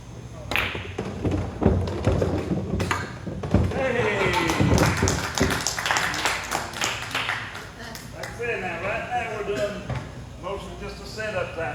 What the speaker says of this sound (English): Cue ball goes around the table, hits the rack